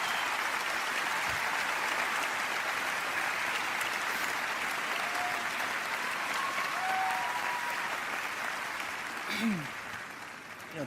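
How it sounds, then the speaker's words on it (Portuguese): Sustained applause from an audience greeting an award recipient as he walks up to the stage, steady dense clapping filling the room for about ten seconds before starting to thin at the end. "O público o recebe com palmas calorosas"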